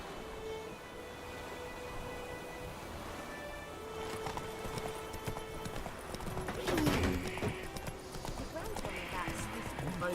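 Horse hooves clip-clop steadily in the Witcher 3 video game, a walking rhythm under game music and ambience, with spoken dialogue between characters.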